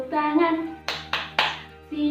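A classroom of grade-four children claps in a patterned rhythm, three sharp hand claps in a row between bursts of their chanting voices, fairly close and clear.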